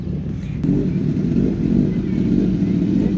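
A steady, low motor rumble holds throughout, like a Kawasaki Z900 superbike engine running at a distance at a biker event, with no sharp revs standing out.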